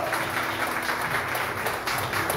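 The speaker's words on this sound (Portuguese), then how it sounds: "Você pode dar um forte aplauso ao Senhor" A church congregation breaks into loud applause during worship, a thick continuous roar of clapping that fills the room from start to finish.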